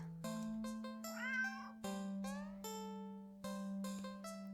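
A cat in the game Don't Take This Cat Home meows several times in clear, tonal calls over a steady electronic drone and sustained music-like tones; no speech.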